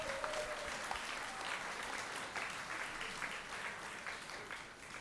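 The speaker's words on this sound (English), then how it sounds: "Give her a round of applause again." Steady audience applause fills the room at a community event, a dense, even wash of many hands clapping with no talk over it.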